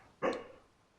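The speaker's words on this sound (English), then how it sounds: "If you can hear my dog barking, I apologize." A single dog bark sounds once, muffled and somewhat distant, a short burst that quickly fades into quiet room tone behind a gaming session.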